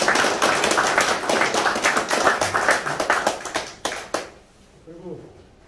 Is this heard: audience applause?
yes